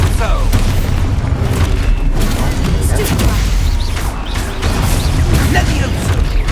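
Repeated spell blasts from the Expulso charm in the Hogwarts Legacy video game, loud booming explosions layered continuously under a player shouting spell names, dense and chaotic throughout.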